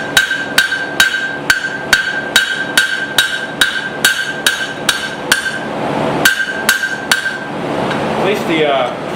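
Hot steel for a tiny forged hammer is struck on a swage block, making a steady series of sharp, ringing hammer blows close by. A brief pause in the middle is filled by shuffling, and then the regular strikes resume.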